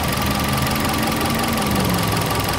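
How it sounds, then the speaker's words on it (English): A 2010 Hyundai Elantra GLS with its Beta 2 engine runs steadily at idle, a constant mid-pitched hum with a faint ticking knock throughout, close and continuous with no talking. "This is the Beta 2 engine."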